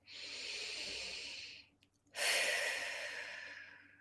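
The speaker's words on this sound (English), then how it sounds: "take a nice deep breath" A slow, deep breath heard close and clear: a long airy inhale, a brief pause, then a strong whooshing exhale that gradually fades, with no speech.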